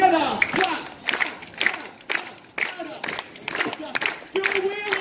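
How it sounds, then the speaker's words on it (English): A street crowd watching a juggler in Melbourne claps together in rhythmic bursts, mixed with shouting voices and a performer calling out between claps. "Here we go, everybody, together! Clap!"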